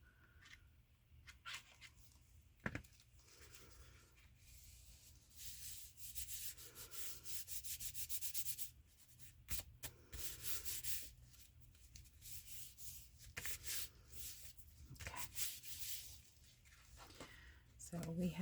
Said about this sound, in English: put some glue stick in there. And we're just going to come up and around just to glue this flap down